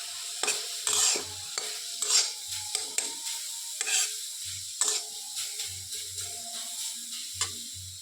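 Pork frying with a little oil in a pan, stirred in repeated scraping strokes at an uneven rhythm over a light sizzle, close and fairly loud.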